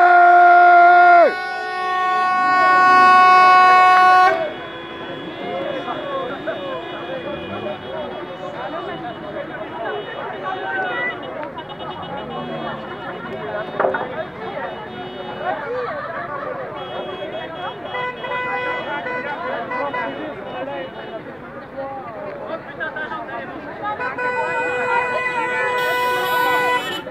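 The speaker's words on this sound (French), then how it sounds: "Klaxonne de partout" Car horns honk repeatedly from several directions at a yellow vest protest, long sustained blasts over a busy crowd and traffic noise, with people talking throughout.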